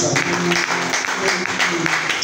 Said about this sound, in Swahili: Tupigie mama makofi